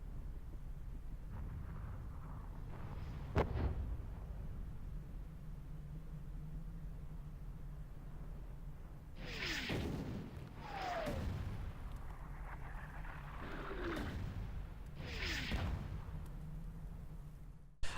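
Artillery strike in the Enemy Territory video game: several faint, distant explosions with descending whistles rumble over a low steady hum, coming in a loose cluster partway through.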